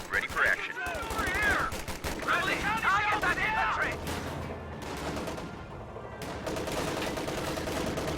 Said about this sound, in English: Lieutenant firing on the Volksgrenadiers in this building.